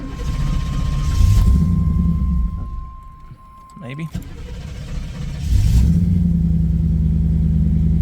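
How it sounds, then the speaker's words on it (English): A 1989 Pontiac Trans Am GTA idles with a steady low rumble, drops off briefly, then restarts and settles back into a loud, even idle nearby, with a short spoken word in between. "All right, turn on the car."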